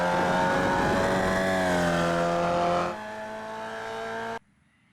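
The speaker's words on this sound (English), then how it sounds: "David Babson coming around to complete his first flying lap." A Formula Vee race car screams past on a qualifying flying lap, its engine note loud and close, pitch shifting as it passes before cutting off abruptly near the end.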